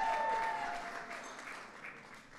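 A crowd applauds at a 2015 Cinco de Mayo celebration at the White House, a dense, steady clapping that starts loud and gradually eases off over a couple of seconds.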